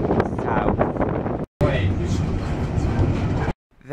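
LMS locomotive 8274 pulls a heritage train away on the Great Central Railway, a steady rumble and rattle of carriages with wind buffeting, briefly cut off twice.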